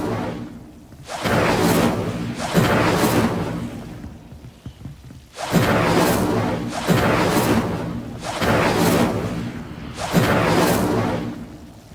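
Incendio fire spell cast repeatedly in Hogwarts Legacy, a series of loud whooshing bursts of flame, roughly five blasts each lasting about a second, with short gaps between them.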